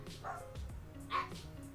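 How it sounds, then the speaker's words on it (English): Several dogs bark and yip in a short burst at a home, with sharp barks scattered across the moment and one louder bark standing out, over quiet room background. "so that's why a bunch of dogs are barking,"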